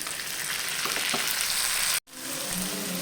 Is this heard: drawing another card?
no